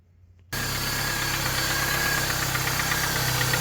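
A Pontiac Sunfire 2.2 four-cylinder engine starts abruptly and then runs steadily, close and loud, with a rough, even clatter from a cold-engine tap.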